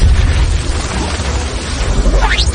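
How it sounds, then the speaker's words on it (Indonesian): A powerful explosion in an animated martial-arts fight comes through as a loud, dense roaring blast that holds for a couple of seconds, with a rising whoosh sweeping upward near the end. "Dan terjadi ledakan yang begitu hebat."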